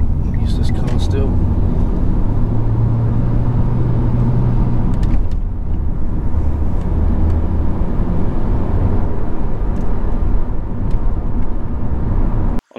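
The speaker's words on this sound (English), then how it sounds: "I'm revving it now because I'm not used to this car still." Car engine revving during a UK practical driving test, a loud, steady droning rumble heard from inside the car throughout, with pitch shifts as the revs change and a brief cut at the very end.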